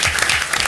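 Audience applause at a school board meeting, a dense, steady clapping from the room sustained for the brief moment with no voices over it.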